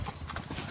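A mare's hooves clip-clop in a short burst of a few quick, muffled strikes, moderately close, with faint background noise.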